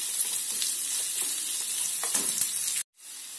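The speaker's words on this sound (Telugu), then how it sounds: "ఉల్లిపాయ మంచిగా వేగాలండి" Chopped onion sizzling steadily in hot oil in a pan for Telugu puffed-rice dibba rotti batter preparation, a continuous close crackle that cuts off abruptly near the end before resuming.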